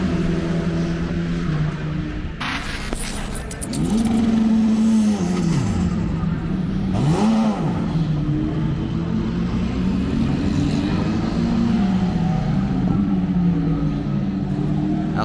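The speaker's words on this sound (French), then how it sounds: "c'est la voiture qui vient de repartir" A race car engine revs and roars continuously at Misano circuit, rising and falling in pitch as it pulls away back onto the track, loud and close, with a brief higher whine partway through.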